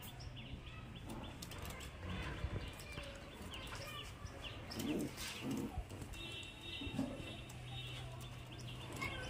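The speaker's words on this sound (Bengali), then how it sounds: "এই যে দেখুন কোয়ালিটি দেখুন পায়রা।" High-flying Giribaz pigeons coo in soft, low bursts, a few clearly audible calls standing out against a continuous background of bird chatter, wing flutter and faint chirps.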